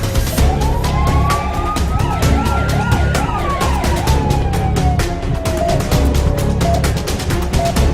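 An ambulance siren sweeps up and down in a wail, then shifts into a rapid yelp, loud and close over steady road rumble.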